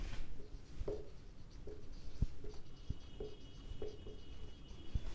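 A pen scratches and rubs softly across a page of accountancy paper in a series of faint, short strokes with small pauses between them, recorded close in a quiet room.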